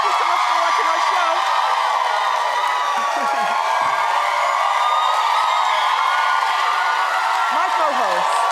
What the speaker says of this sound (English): I love the roar of the crowd.